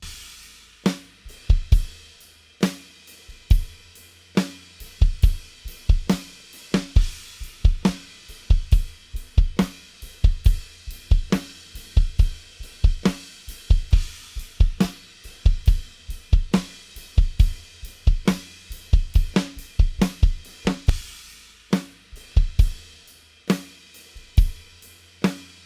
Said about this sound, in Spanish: Y después ya toda la batería junta suena así.